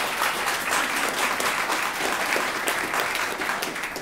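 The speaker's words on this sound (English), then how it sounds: "please give a round of applause for Professor Gerard Casey" Steady applause from an audience welcoming Professor Gerard Casey to speak at a Free Speech Ireland event, a dense, even wash of clapping that holds for the full four seconds with no talk over it.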